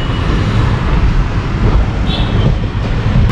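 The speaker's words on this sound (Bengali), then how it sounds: "রাস্তার পাশ দিয়ে পুরো ট্রেনটা যাচ্ছে" A train rolls along its tracks beside a road, a loud, continuous rumble with faint clickety-clack throughout, heard close from on board.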